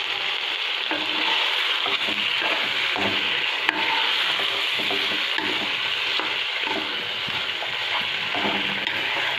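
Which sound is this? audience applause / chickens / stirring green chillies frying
stirring green chillies frying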